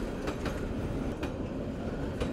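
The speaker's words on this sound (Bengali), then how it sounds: "ট্রেনের মুখোমুখি হলাম।" A train passing a rail crossing in Bangladesh, rolling by close and loud with a continuous rumble and rhythmic clickety-clack of the wheels over the joints.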